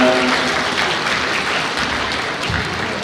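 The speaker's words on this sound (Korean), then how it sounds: "여러분 박수 부탁드리겠습니다" Wedding guests at a musical-style ceremony in a convention wedding hall applaud after the couple's mutual bow, a dense, steady wash of clapping that fills the room for about three seconds and slowly thins.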